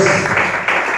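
A church congregation breaks into brief, dense applause, the clapping loud and close, filling the space with a steady wash of hands with voices mixed in.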